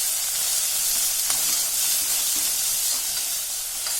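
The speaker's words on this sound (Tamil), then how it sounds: "இப்போ சின்ன வெங்காயம் சேர்த்துக்கிறேங்க பொடிசா கட் பண்ணினது." Finely chopped small onions sauté with salt in an oily pan, making a constant, fairly loud sizzling hiss with a few faint stirring taps.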